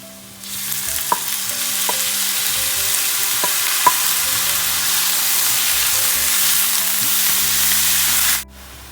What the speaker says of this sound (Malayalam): ഇനി നമുക്കിതിലേക്ക് അരിഞ്ഞു വെച്ചിരിക്കുന്ന ഉള്ളി ചേർക്കാം.